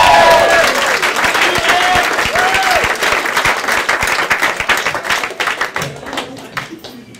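Loud comedy club crowd applause with scattered cheers and whoops, steady at first and then thinning out toward the end.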